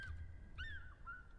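A streamer's voice imitates a bird noise, giving a few faint, strangled, whistly squawks that rise and bend in pitch, close and alone.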